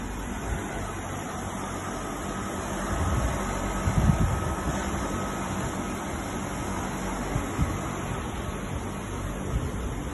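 Outdoor units of a Carrier central air conditioning system run in a steady mechanical hum and fan whir, with a constant tonal drone and a brief louder swell midway, heard outdoors.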